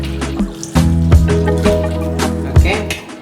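Thin coconut milk poured into a pan of Ada Pradhaman payasam, a soft liquid trickle and splash with a few sharper clunks, up close and fairly loud, with no talk over it.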